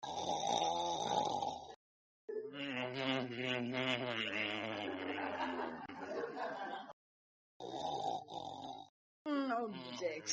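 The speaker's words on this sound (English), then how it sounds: "please turn on your side and stop snoring" A man snores loudly in an old radio comedy, with long rasping, grunting breaths repeated in uneven bursts and broken by short silences.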